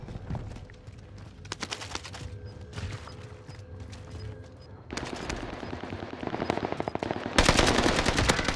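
Automatic and rapid gunfire from Call of Duty: Modern Warfare in a bout of gameplay shooting through a wall, with bursts of rattling fire building louder, a dense near barrage in the final second, and mechanical clicks between shots.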